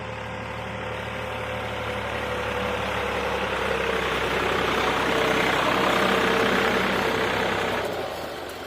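A New Holland T4.60S tractor engine runs steadily in a field, a loud, continuous broadband drone with an even low hum, swelling slightly near the end before easing off; no one speaks.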